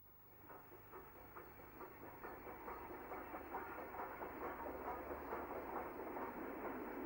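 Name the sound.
Retford breakdown train passing through Trent Junction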